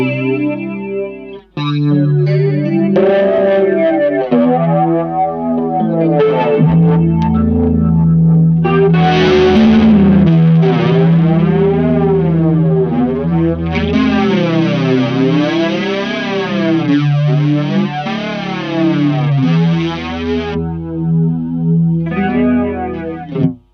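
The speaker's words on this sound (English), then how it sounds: "This is what the flanger sounds like on its own." Fuzz pedal's flanger effect, a Dreadbox Disorder, sweeping through loud distorted synth-like tones, with repeating rising and falling comb-filter swooshes over sustained notes across the whole stretch, no talk.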